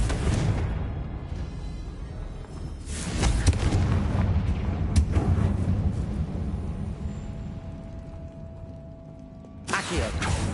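The Confringo fire spell explodes in Hogwarts Legacy, a loud rumbling blast with booming bursts that roll on for several seconds before fading, then a sharp new burst near the end.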